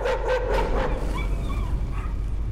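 A dog barks and yips in the horror video game Layers of Fear, a run of sharp calls over the first second, then fainter whines over steady low background noise.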